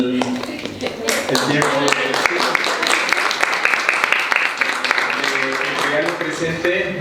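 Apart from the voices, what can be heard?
audience applause for Professor Becerra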